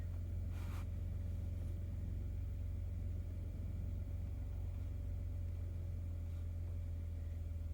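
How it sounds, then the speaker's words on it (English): A Ford Expedition engine idles with a steady low rumble and hum that holds constant throughout, moderately quiet and unbroken, with a faint click near the start. "we're going to start the vehicle"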